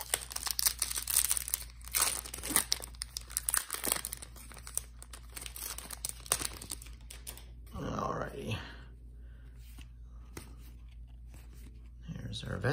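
A trading card pack wrapper is crinkled and torn open at close range, with brief rustling and crackling under a voice that keeps talking.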